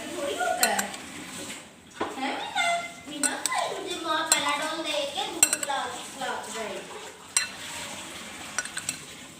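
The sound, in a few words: mixing black chana chaat salad in a bowl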